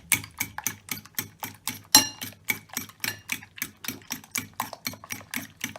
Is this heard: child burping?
no